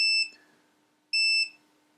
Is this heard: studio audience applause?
no